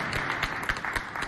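Brief, moderate clapping from a show audience cheering for young girls, a dense patter of hands over a short span.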